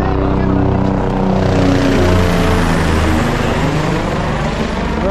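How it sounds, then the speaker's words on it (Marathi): A helicopter passes close overhead at a tent colony base camp, a loud, steady rotor and engine roar filling the whole stretch without fading, while people talk beneath it. "हेलिकॉप्टर एक्झॅक्ट वरतून गेलो माझ्या"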